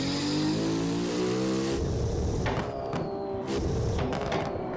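In a Formula Sim Drift Japan racing game at Okayama, a simulated RB26 engine revs hard in second gear, a harmonic drone that breaks into a rougher, crackling note as the throttle backs off, loud and alone.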